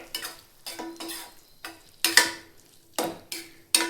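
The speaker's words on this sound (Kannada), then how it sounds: "ಕೊತ್ತಂಬರಿ ಹಾಕಿ ಒಂದ್ಸಲ ಮಿಕ್ಸ್ ಮಾಡ್ಕೊಂಡ್ಬಿಡ್ತೇನೆ ರೀ" Ridge gourd palya with coriander stirred in a pan, a spoon scraping through the vegetables in several separate bursts, close and fairly loud, with pauses between strokes and a faint sizzle underneath.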